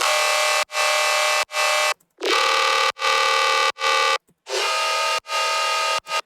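Heavy, buzzy dubstep synth tones sustain in bursts, each cut off sharply by short gaps, with the layered pitch shifting between held notes.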